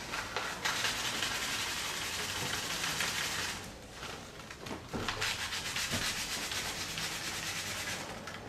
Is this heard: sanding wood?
yes